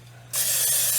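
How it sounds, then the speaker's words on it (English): A sudden continuous hiss of cooking oil spray onto a pan starts after a brief quiet moment and holds steady and close, a low hum running underneath. "let's spray it up again."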